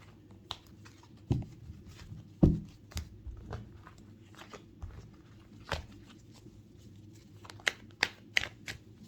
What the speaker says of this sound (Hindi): इन कार्ड्स के अलावा बाकी जितने भी कार्ड्स और हैं उनको हम यहाँ से हटा देते हैं।